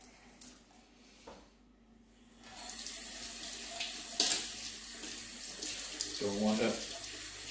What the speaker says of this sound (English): Let's give them a quick rinse.